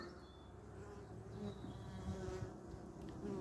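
Honeybees hum densely at the entrance of a top bar hive in April, a steady close buzzing swarm sound with individual bees droning past, no talking.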